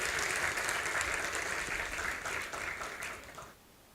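A TEDx talk audience applauds steadily in a hall, a dense crackle of clapping that holds for about three seconds and then tapers off quickly into quiet.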